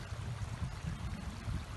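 Water from a small hillside stream trickles and pours steadily past logs placed as leaky dams, a soft continuous close-up gurgle with no voices.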